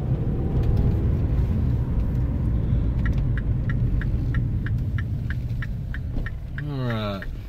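A Mini Cooper Clubman being driven, its engine a steady low hum and road rumble throughout, with a rhythmic clicking and a brief rising tone near the end.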